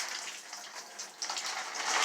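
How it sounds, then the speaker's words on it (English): Wash water dumped from a handwashing bag after agitating cloth diapers, pouring out in a soft, steady splashing trickle that swells slightly near the end, fairly quiet and with no voices. "Okay, so I agitated for a few minutes, and I'm going to dump the water."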